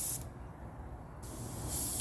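An airbrush sprays cleaning fluid through the gun in short bursts, a close, soft hiss that cuts out briefly and then returns.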